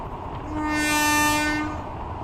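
A train rumbles across the Padma Bridge with a long, rising and fading horn blast, loud at its peak and then receding.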